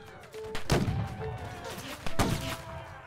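Two sharp, booming musket shots ring out in the Civil War video game Battle Cry of Freedom, each followed by a rumbling echo.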